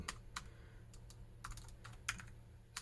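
Irregular clicks of keys being typed on a USB keyboard connected through an adapter to a TRS-80 MC-10 computer, close and fairly quiet, with short pauses between bursts.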